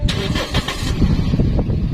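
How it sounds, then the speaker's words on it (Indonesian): A Toyota Vios G third generation starts by keyless push button, the starter cranks briefly and the engine catches and settles into a close idle. "Kita akan hidupin mobil ini ya."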